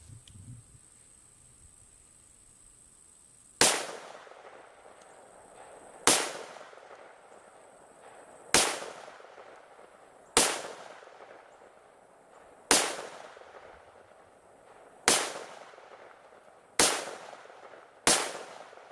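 Eight sharp pistol shots from a Rock Island Armory 1911 chambered in 22 TCM crack out at a shooting range, spaced every two seconds or so, each with a short decaying echo and quiet pauses between.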